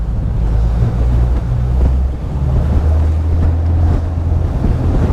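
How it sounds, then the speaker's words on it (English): The big single-turbo engines of a Manhattan 65 motor yacht idle at sea just over 600 RPM, a low steady rumble mixed with loud wind buffeting and water wash, with no voices. "Engines are ticking over nicely at just over 600 RPM."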